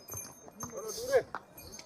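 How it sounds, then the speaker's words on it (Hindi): Horses' hooves clip-clop on a dusty mountain trail of the Amarnath Yatra pilgrimage route, with scattered close steps and a faint jingle, under a person talking. "आगे से भी घोड़ा है और पीछे से भी घोड़े आ रहे हैं।"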